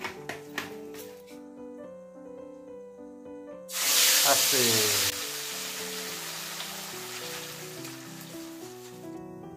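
Sugar melting in hot oil in a pan for a Bengali chicken dish, a loud sudden burst of hissing sizzle that settles into a steady frying hiss, with a voice and music-like tones underneath.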